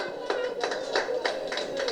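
A small audience at a jewellery store's grand-final event claps, producing a steady patter of scattered handclaps close by at moderate volume with no one talking.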